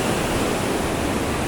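Rushing river water surges in strong waves, a dense, steady roar heard close up and alone, with no voices over it.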